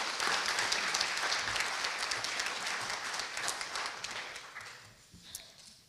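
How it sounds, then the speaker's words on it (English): Audience at a county recreation and parks volunteer awards ceremony, applauding in a steady round of clapping indoors that gradually thins and fades out toward the end. "a round of applause for all of you"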